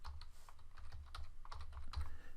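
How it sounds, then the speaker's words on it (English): Typing names into a computer on a keyboard: quick, irregular bursts of close key clicks and taps, quiet and alone, with short pauses between strokes. "Type in Harrison, put in Marianne."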